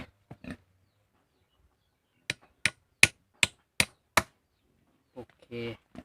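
Six sharp hammer blows striking nails into eucalyptus wood in a steady rhythm while building a pig pen gate, close and loud, with a few brief knocks before and a short voice at the end.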